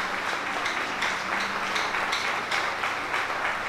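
A church congregation at a Sunday family-month service claps steadily for the mothers, a dense even round of applause with no voices over it.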